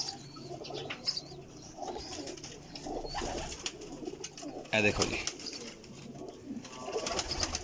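Pigeons coo softly outside a pigeon market amid a busy background of voices and rustling, with a brief flutter of wings near the middle.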